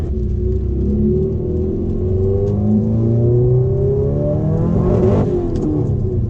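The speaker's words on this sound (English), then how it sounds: "you can see it just hit boost cut there." A Subaru STI engine revs hard and repeatedly climbs in pitch, hitting boost cut and stuttering near the top, loud and close with a steady rumble underneath.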